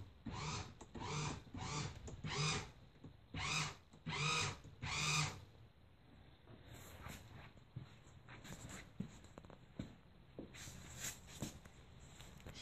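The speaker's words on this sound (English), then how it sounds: "drill motor, nut driver combo here will spin" A drill motor fitted with a nut driver spins in a series of short, regular bursts, then gives way to quieter, irregular mechanical clicks and rattling.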